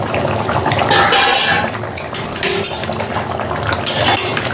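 Chicken curry being stirred in a kadai, a metal spoon scraping and clinking against the pan in loud continuous strokes, with a wet, saucy churn beneath and no talking.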